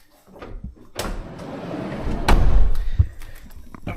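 The door of a 2017 Mercedes Vito Tourer 4MATIC van is pulled shut, giving a firm thud with rattles and clunks around it, close up inside the vehicle.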